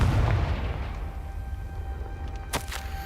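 Confringo explosion spells in Hogwarts Legacy: a deep booming blast opens the moment, then after a quieter rumbling stretch two sharp cracking bursts snap out close together near the end.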